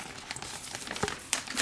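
Large IKEA plastic zip bag crinkling over a bamboo sushi mat, close, uneven rustles and crackles with a few sharper crunches, no speech.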